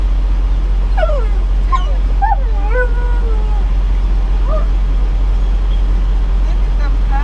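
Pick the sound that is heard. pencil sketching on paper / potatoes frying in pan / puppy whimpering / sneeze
puppy whimpering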